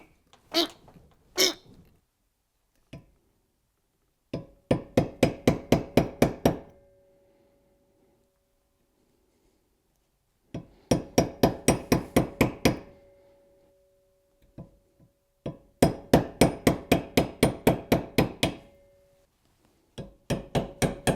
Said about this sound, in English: that's a blunderbuss of a hammer